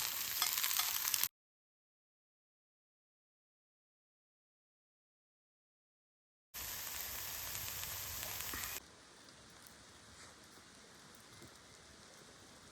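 Meat buns sizzle in a Daiso cast-iron skillet over a winter campfire, a steady crackling hiss in two bursts separated by a long silent gap, then a quieter, softer fizz continuing to the end.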